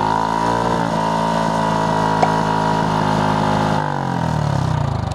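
A motorcycle with a Yoshimura full exhaust system is held at half throttle, giving a loud, steady, close-up engine drone with a rich harmonic tone that eases slightly toward the end.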